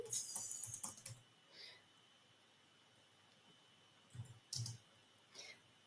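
A rapid burst of keyboard clicking, then quiet, with a few scattered keystrokes later on, close and soft.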